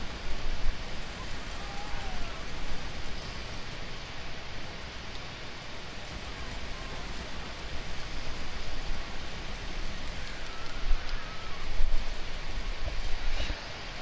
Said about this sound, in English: why does it have to rain right now